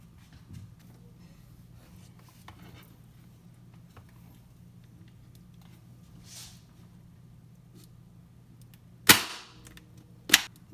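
A staple gun fires two sharp, loud snaps a second apart into seat cushion fabric, preceded by quiet rustling and handling noise.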